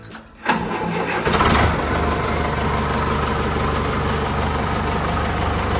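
A heavy tractor engine turns over and catches, then settles into a steady, close, rumbling idle that runs on evenly.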